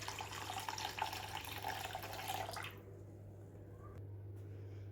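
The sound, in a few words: pouring a glass of warm water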